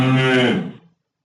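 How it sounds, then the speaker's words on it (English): A cow moos once, loud and close, in a single sustained low call about a second long that fades out, from a children's animal-sounds learning program. "cow."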